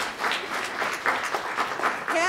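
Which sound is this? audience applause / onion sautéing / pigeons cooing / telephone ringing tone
audience applause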